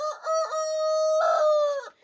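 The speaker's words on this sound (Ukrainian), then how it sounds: "вони так деколи люблять, коли зносяться ще посидіти і покричати" A hen that has just laid an egg sits and calls out in a loud, drawn-out cackle, close by, with a rising squawk near the end.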